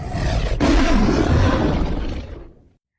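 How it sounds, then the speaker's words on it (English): A lion lets out a mighty roar, a deep, rumbling bellow that swells quickly, holds powerfully for about two seconds, then fades away, loud and close with no voices over it. "In this case, the lion has a mighty roar."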